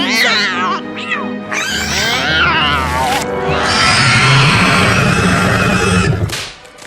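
A kitten yowls and meows loudly up close in several long, wavering cries, the last stretch rising into a drawn-out caterwaul before fading.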